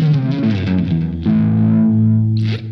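A Fender American Pro II electric guitar in three-tone sunburst, played through distortion and effects: a few sustained, overdriven notes ringing close and loud, swelling into a long held tone that fades out.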